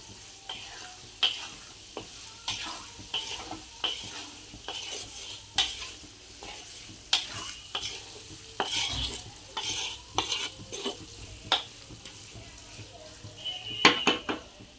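Onions for kanda poha fry in a pan while a spatula stirs them, giving repeated scraping knocks and clinks over a soft, steady sizzle at moderate distance.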